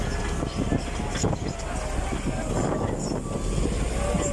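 A side boom pipelayer engine runs steadily at a pipeline welding site with a continuous low rumble and some wind noise, no clear pauses.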